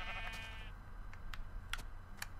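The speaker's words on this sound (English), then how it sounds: "You little sheep." A Minecraft sheep gives a single wavering bleat at the start, fairly close and clear, followed by a few faint clicks over a low background hum.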